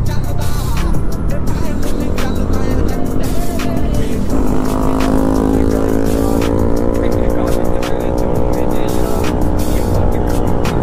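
A group of motorcycles, including an NS 200, riding together on a road and overtaking, engines roaring loudly and continuously with rising and falling revs, wind noise and a rider shouting now and then.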